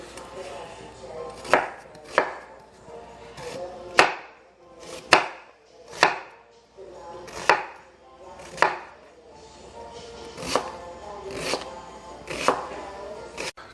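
A knife dices onions on a cutting board during chilli preparation, giving about a dozen crisp, separate chops at a loose, uneven rhythm, close and clear with no talking.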